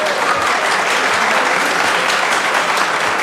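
Sustained applause from an audience at a U.S. congressional human rights caucus hearing on Kosovo, a dense, steady clatter of many hands filling the room at constant loudness from start to finish.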